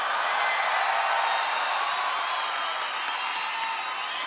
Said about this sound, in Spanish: Fuerte el aplauso al Cojo Feliz